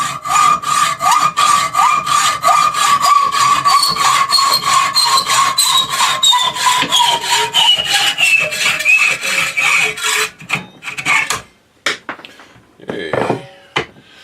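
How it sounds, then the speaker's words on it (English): A power saw cuts in fast rhythmic strokes with a gliding whine during shop work on a Piper Super Cub refurbishment. It is loud and sustained for about ten seconds, then stops into scattered knocks and handling noises. "back to the power saw."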